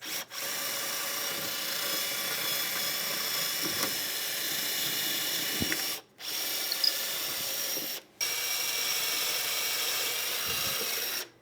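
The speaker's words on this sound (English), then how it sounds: "I'm gonna go ahead and drill 2 pilot holes." A power drill fitted with a long masonry bit bores pilot holes into a garage wall for mounting shoe storage, with a steady, loud whir in three long runs separated by brief stops.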